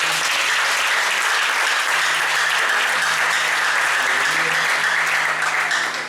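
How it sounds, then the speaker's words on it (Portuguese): Loud, sustained applause from a church congregation fills the whole stretch, dense clapping with a low hum underneath and no clear speech. "Levante uma salva de palmas."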